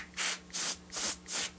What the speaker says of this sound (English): a good place to start is with canned air,